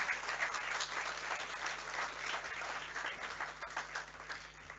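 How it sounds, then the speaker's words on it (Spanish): An audience gives sustained, steady applause at an event on gender equity in Chile, many hands clapping together at an even volume throughout with no voices above it. "un aplauso, ¿cierto?, a estos grandes logros"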